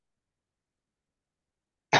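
A single short cough bursts out right at the end after near silence.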